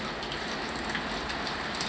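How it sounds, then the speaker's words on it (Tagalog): Heavy rain pours down in a constant, loud wash during a typhoon, with gusty wind blended into the dense, unbroken hiss. "malakas na po yung hangin at ulan"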